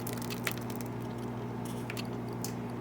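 Thick flaxseed gel glops and squishes as it is poured into a strainer over a bowl, soft wet slurping sounds continuing steadily over a low hum, with no talking.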